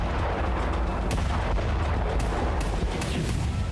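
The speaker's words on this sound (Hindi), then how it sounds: "आग की ऊंची ऊंची लपटें उठी और रात के सन्नाटे में पूरा इलाका धमाकों से थर्रा उठा" Explosions at night in Sevastopol shake the area, with several sharp booms and bursts breaking through a loud, continuous rumble of blasts and fire.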